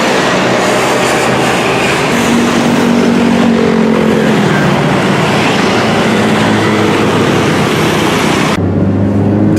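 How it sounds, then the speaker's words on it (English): Dense street traffic on a busy two-way road in Bali, a steady loud roar of engines and passing vehicles filling the whole stretch, with no talk over it. "This traffic is completely crazy."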